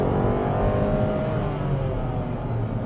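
A Nissan Magnite AMT accelerating with the pedal pressed fully to the floor, its engine producing a steady, close, droning roar that holds level throughout with no talking.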